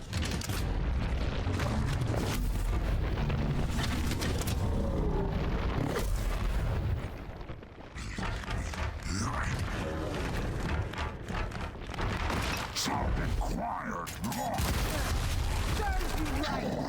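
A missile barrage pounds down in the video game Gears Tactics, with dense, continuous explosions and booming impacts rolling on loudly for the whole stretch, briefly easing midway before surging again.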